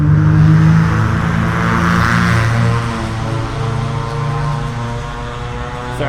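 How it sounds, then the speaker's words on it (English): A loud car passes by on a street near the Tempe Carvana Tower, a heavy steady engine roar with a low droning hum that fades slightly toward the end, heard alone without talk. "sorry, that car was really loud."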